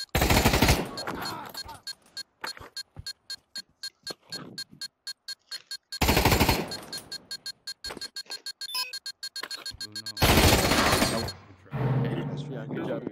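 AK rifle fire in the Pavlov VR video game, with long loud bursts broken by steady single shots in a quick even rhythm, then more bursts and a few brief mechanical clicks between them.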